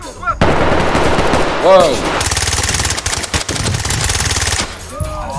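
Sustained automatic gunfire in the Ready Or Not tactical shooter, rapid bursts close and loud over several seconds, with a player's brief exclamation and chatter mixed in.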